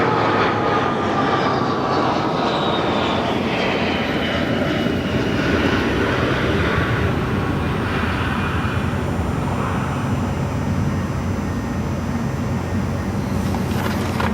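Airplane landing at Chicago's O'Hare International Airport with a bouncy touchdown: a steady, loud broadband engine roar with a descending whine, continuous throughout, with no talking.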